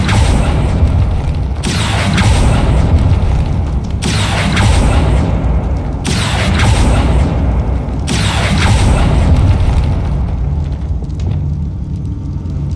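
Bombarda explosion spell in the Hogwarts Legacy video game, a run of heavy booming blasts about every two seconds over a constant loud low rumble, fading slightly toward the end.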